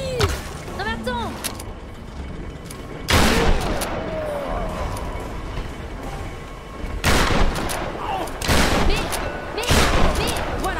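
Gunshots in the action game Tomb Raider, a few sharp bursts spread across the stretch amid busy game sound effects and someone talking over them.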